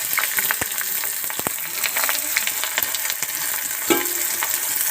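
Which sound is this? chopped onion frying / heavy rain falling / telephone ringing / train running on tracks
chopped onion frying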